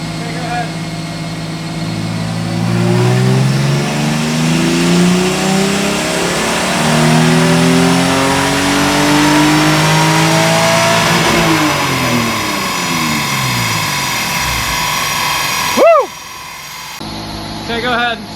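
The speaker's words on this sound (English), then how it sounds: "let's do this dyno pull and then we'll get to see what your horsepower looks like" A Toyota 2JZ engine in a Lexus SC300 revs hard through a dyno pull, its pitch climbing steadily for about twelve seconds before falling away, with a sharp squeal near the end.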